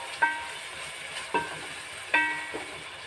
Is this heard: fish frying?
yes